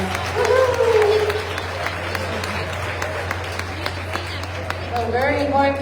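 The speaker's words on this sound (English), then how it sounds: "Let's give Dean a round of applause." Crowd at the Cumberland Fair machine pull clapping and cheering for a seven-year-old driver, a sustained spatter of applause with a steady low engine hum underneath and voices calling out over it.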